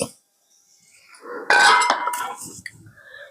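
Hot jaggery syrup being mixed into flour with a utensil: faint scraping at first, then a clear metallic clatter and ringing clinks of the utensil against the vessel, followed by softer scrapes and taps.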